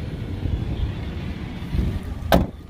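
A 2005 Ford Explorer Sport Trac with 81,000 miles idles in a steady low rumble, with a brief louder burst near the end and no voices.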